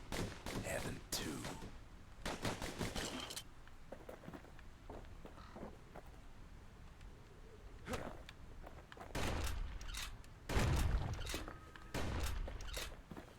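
Dual slinger pistols in the video game Bastion fire in scattered bursts of sharp shots, mixed with footsteps and other game effects, loud and up close.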